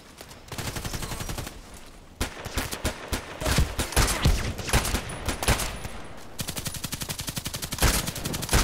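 Rapid single shots from an HK417 rifle on semi-auto in a video game, loud, close and dense, with sharp cracks in quick bursts across the whole stretch and a short lull near the start.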